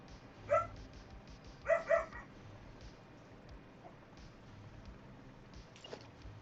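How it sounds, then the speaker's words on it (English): Several sharp yaps from a puppy, one early and a quick pair shortly after, then fainter trailing barks over a low background hum, with no talking. "He don't know what he's barking at half the time."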